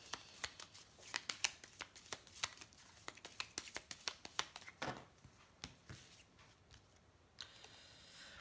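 A deck of angel oracle cards being shuffled close up, a rapid series of crisp riffling flicks and slaps in irregular bursts, fairly quiet overall, with no talking.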